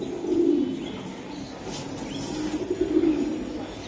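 High-flying Giribaz racing pigeons coo in a loft, giving low, throaty, repeated calls at close range with faint background noise and no talk.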